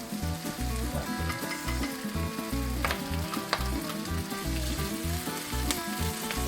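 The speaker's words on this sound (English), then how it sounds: "Stir till the onions is soft. And once the onions is soft, we are going to add our salted black beans." Onions and salted black beans fry in a pan with a constant close sizzle, and a spoon scrapes and stirs through it at intervals, with no voices.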